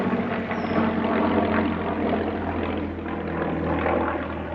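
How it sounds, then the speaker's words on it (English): Spitfire propeller aircraft passing overhead, a steady rumbling drone heard from a distance, fairly even in level throughout with no voices over it. "That's a mighty Spitfire just flying over the top."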